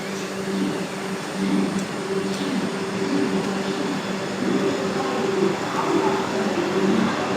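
Platform one at New Jalpaiguri railway station in India carries a steady, loud rumble and hum of a train, with faint voices in the background.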